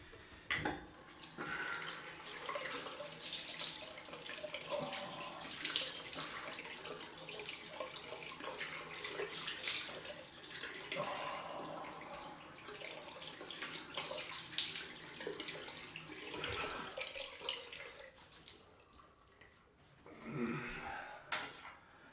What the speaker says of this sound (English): it's cold rinse time